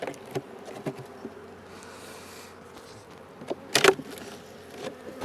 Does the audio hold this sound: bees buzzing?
yes